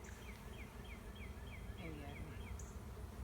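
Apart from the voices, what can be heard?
bees buzzing while forming a bee beard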